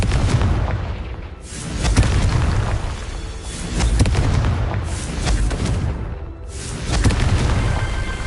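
Repeated blasting-spell explosions from the Hogwarts Legacy video game, three heavy booming bursts spaced a few seconds apart over a dense, rumbling game soundscape, loud and close, with no talking.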